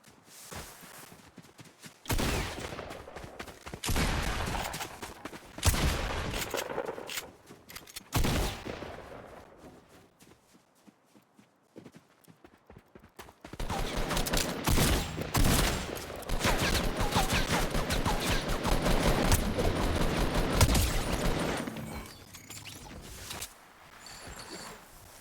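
Bursts of rapid shotgun and submachine gun fire in a Fortnite solo match, loud clustered volleys broken by a quieter stretch, then a long sustained barrage of game gunfire.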